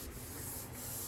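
Abrasive sanding scrapes faintly but steadily across the metal fender of a Porsche 914 during bodywork, a continuous rough rubbing hiss.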